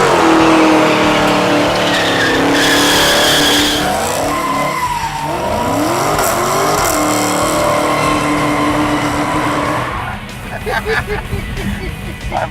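A 1968 Dodge Charger with a 707hp Hellcat engine doing a burnout, a loud sustained tire squeal over roaring, revving engine that fades toward the end, with people talking and shouting nearby.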